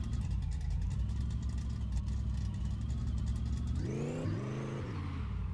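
A car engine in Car Mechanic Simulator idles with a rough, steady rumble, then revs up sharply near the end, pitch climbing and falling in quick bursts, loud and close with no talking.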